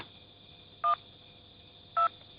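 Telephone keypad tones from a number being dialed in an anime, two short separate beeps about a second apart over a quiet hum.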